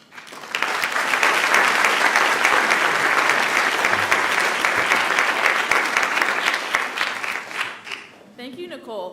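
Audience applause after a Three Minute Thesis competition talk at a graduate scholars conference, a dense, loud wash of many hands clapping that holds steady for about eight seconds, then fades into brief talk at the end.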